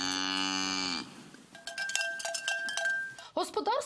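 A cow moos once, a long, loud, close low call at a rural homestead during morning milking, followed by ringing cowbell-like clanks and faint voices.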